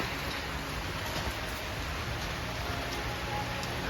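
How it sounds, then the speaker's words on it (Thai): Steady rain falling through a cold, day-long downpour, a continuous even hiss with no distinct drops standing out, heard alone at a moderate level. "วันนี้ฝนตกทั้งวันนะคะ"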